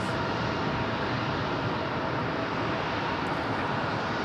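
Airliner engine roar at Raleigh Durham airport, a steady broadband rumble that stays loud and even throughout, with no voices.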